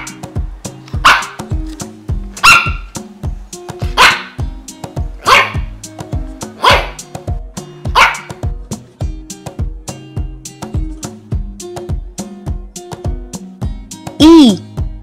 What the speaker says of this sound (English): And the sound of the dog is...